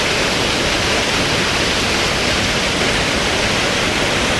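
A waterfall along the rainy Kedarnath trek in the Himalayas roars as a dense, constant rush of water, loud and unbroken throughout with no voices.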